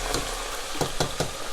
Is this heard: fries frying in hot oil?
yes